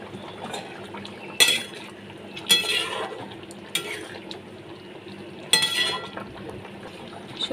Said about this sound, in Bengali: সর্ষের তেল দিয়ে দিচ্ছি উপর থেকে।